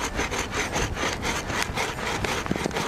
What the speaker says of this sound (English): and start sawing